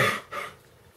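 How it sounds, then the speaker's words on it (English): Two quick, harsh coughs from one person, close to the microphone, the second slightly weaker, followed by quiet room noise. "I'm sorry for coughing so much."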